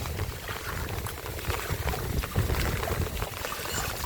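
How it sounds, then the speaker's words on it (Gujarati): Heavy rainwater pouring and streaming off rooftops during a downpour, a steady loud rushing wash of water close by with no talk. "પાણી જુઓ તમે કેટલું આવે છે"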